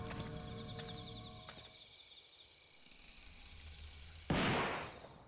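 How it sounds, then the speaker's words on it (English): A single gunshot cracks out in a shrine's grounds within a video game, sudden and loud after quiet ambient tones, then reverberates and fades over about a second. "the sound of a gunshot rings out and reverberates through the shrine grounds"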